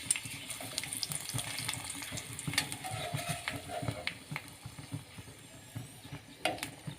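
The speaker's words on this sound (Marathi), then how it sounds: "या मिरच्या कडक तेलामध्येच तळायच्या असतात." Curd chillies fry in hot oil in a pan, giving a steady faint sizzle dotted with small crackles and pops throughout.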